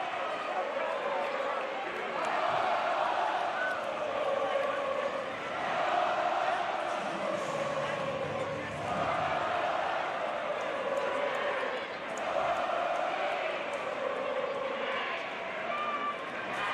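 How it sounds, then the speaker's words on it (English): Dense crowd roar fills a packed gym at the 2022 IHSA 4A Super Sectional high school basketball game between Barrington and Glenbrook South, swelling and dipping in waves with voices carrying over it throughout. "If you can hear the crowd, it's all Barrington so far tonight."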